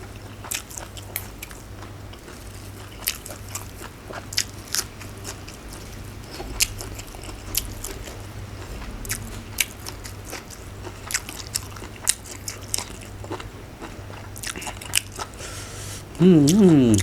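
Raw beef omasum (tripe) being chewed close to the mouth: a run of crisp, irregular crunchy bites and squishy chews over a low steady background hum, with faint voices.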